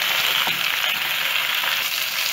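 Beef browning in a pressure cooker pan with seasoning gives a steady, loud sizzle and crackle of frying that runs evenly throughout, with no voices.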